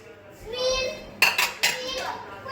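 Plates for homemade pizza being taken out in a home kitchen, a few clattering clinks of dishes close by, with a voice and other talk heard before them.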